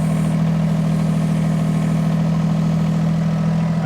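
Engine of an auger drive machine used for digging planting holes in heavy clay soil, idling with a steady, loud low hum and constant vibration, no speech over it.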